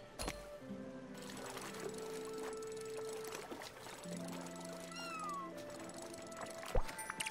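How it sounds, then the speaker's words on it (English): A cat meowing in the Spiritfarer video game, several drawn-out rising meows over a calm, quiet musical game soundtrack with soft tonal notes. "I love that cat."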